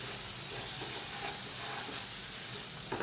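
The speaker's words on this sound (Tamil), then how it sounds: "எண்ணெயில் நல்லா அது வதங்கி வரணும்." Chili masala sautés in hot oil for an egg gravy, a steady, dense sizzle and hiss with soft stirring scrapes, close and continuous, with no talking.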